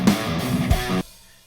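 A programmed MIDI drum groove plays briefly, with an open hi-hat hiss washing over a kick thump before the pattern cuts off and rings out.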